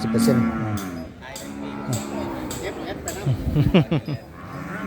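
Cattle moo repeatedly at a cattle and buffalo market in Nong Phok district, Roi Et, with deep lowing calls nearby amid the bustle, while people talk throughout.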